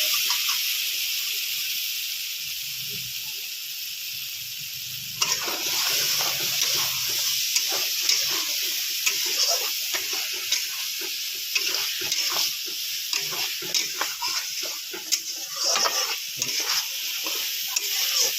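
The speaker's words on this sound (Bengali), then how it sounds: "এবারে সরষে পেস্টটা দিয়ে দেবো আর কিছুক্ষণ নাড়িয়ে ফলটা ঢেকে দেবো" Mustard paste added to a frying pan for a fish curry, a steady hiss of frying that turns busier with rapid scraping and stirring strokes after a few seconds, close and unaccompanied by speech.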